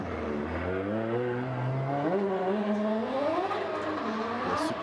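Supercharged race car on a drifting qualifying run at Sportsland Sugo, Miyagi, coming down a hill, its engine droning steadily and rising in pitch as it revs, a bit distant under the constant noise of the circuit.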